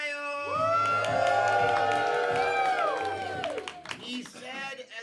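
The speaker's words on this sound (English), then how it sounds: "He said as the crowd went wild." Comedy club audience at First Coast Comedy erupting in loud cheers, whoops and clapping, with sustained shouted voices that swell then break into scattered yells near the end.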